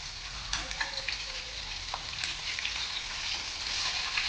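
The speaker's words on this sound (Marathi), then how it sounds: "मिरची छान क्रिस्पी भाजायची" Green chilies fry crisp in hot oil for chivda, a steady close sizzle with faint stirring clinks now and then.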